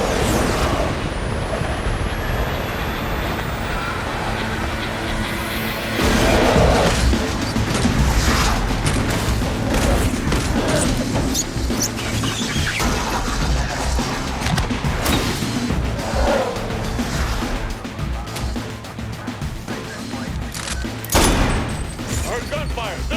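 Gunfire and chaotic combat in the video game Saints Row: The Third Remastered during a zombie mode, dense bursts of shots and crashes layered over a continuous loud mechanical rumble, with heavier volleys after six seconds.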